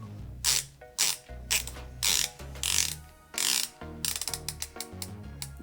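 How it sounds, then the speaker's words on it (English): A black PVD-coated Peren Nera Rogue X GMT watch bezel turned by hand, giving close, crisp ratcheting clicks in several quick bursts with short pauses between them, with no voices. "Let's listen to the bezel action"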